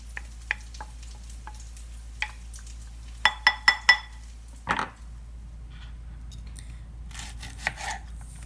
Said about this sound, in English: You're cutting up your shallots